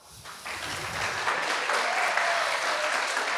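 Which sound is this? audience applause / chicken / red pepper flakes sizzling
audience applause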